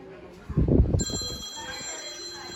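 A phone rings with a steady, bright electronic tone that starts partway through, right after a brief burst of nearby voices and clatter at a child's birthday party.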